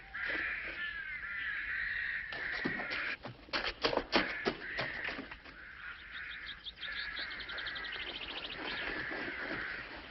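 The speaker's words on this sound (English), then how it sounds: "Them blackbirds is after my fruit" Blackbirds call in a fruit garden, harsh repeated caws and chattering cries with wing flaps, fairly close and busy, rising into a dense burst midway before settling into steady calling.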